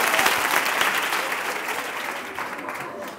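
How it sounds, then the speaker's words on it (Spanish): Teachers at a workshop on emotional skills and wellbeing applaud themselves, a short burst of crowd clapping that starts strong and gradually tapers off. "Y luego nos aplaudimos."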